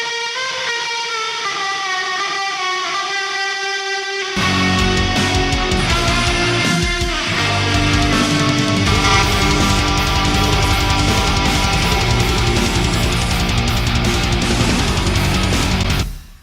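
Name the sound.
guitar with reverb pedal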